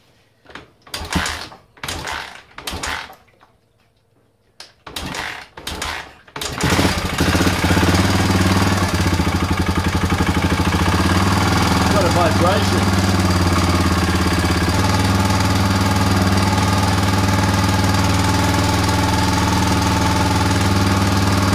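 A Honda XL250 motorcycle engine under restoration, with nasty knocking noises. Several short bursts of kick-start attempts come first, then the engine catches and runs steadily and loudly with a rough, rattling knock throughout.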